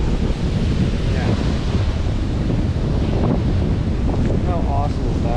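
Strong outdoor wind buffets the microphone over rushing, spraying water on a spring Sunday ride in Mark Twain National Forest, a steady loud wash throughout.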